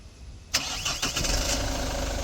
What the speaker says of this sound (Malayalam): നമുക്കിപ്പോൾ വണ്ടി സ്റ്റാർട്ട് ചെയ്ത് നോക്കാം.